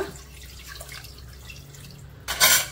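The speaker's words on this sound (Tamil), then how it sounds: "அதுக்கப்புறம் 1 கப் அளவுக்கு தண்ணி சேர்த்துக்கோங்க." About a cup of water is poured into mutton in a metal cooker pot, a short, splashy gush that comes suddenly at the end after a quiet stretch of faint kitchen noise.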